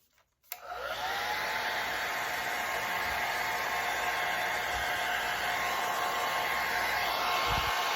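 A hair dryer blows on white paint on a wooden reversible spring and summer sign. It starts with a click and a quick rise, then holds a loud, steady whooshing hum with no talking.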